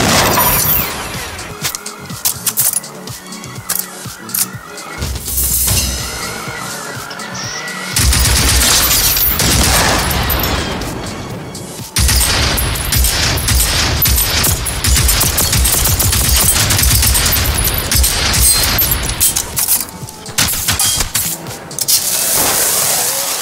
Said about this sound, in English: they're shooting at the player